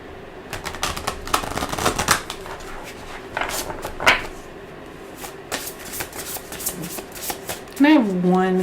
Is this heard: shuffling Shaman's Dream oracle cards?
yes